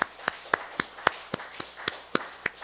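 At a Korean church New Year's Eve service, the congregation claps in unison, about ten sharp, evenly spaced claps in a brisk steady rhythm, fairly soft against a quiet hum.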